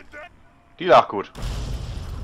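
An explosion in Fallout 3 cuts in sharply after a short spoken line, leaving a broad rumbling blast that rolls on steadily to the end.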